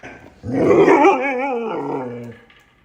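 A playful dog growls in one long, rising and falling vocal grumble lasting about two seconds, loud and close.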